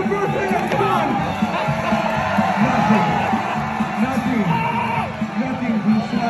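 A crowd at a BaseBrawl event cheers and whoops continuously, a loud, dense mass of yells and bellows with shouting voices rising out of it throughout.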